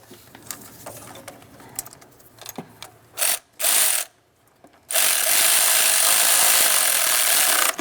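A hand ratchet snugging up intake manifold bolts on a Toyota RAV4 during a knock sensor replacement, heard as soft scattered clicks followed by two short bursts and then a long, steady, fast ratcheting run, close and alone.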